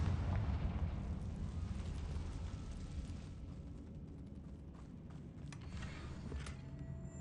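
A Confringo fire spell explodes in Hogwarts Legacy, a loud booming blast with rumbling low-end debris that stays dense for several seconds, then gives way to a few sharp crackles near the end.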